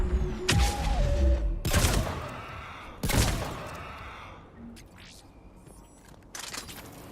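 Gunfire in the Mass Effect video game: several loud, sharp bursts of shots in sequence, with gaps between them and quieter combat noise and a faint voice underneath.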